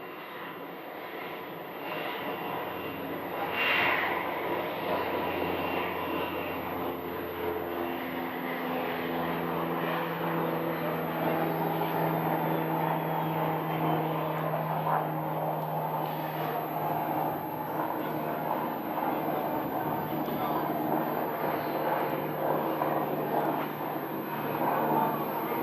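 An airplane taxis to park at Scottsdale airport, its engine droning at moderate distance with a steady whir that rises slightly and holds for over twenty seconds, no talk.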